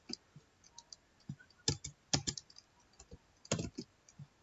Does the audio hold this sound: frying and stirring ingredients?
no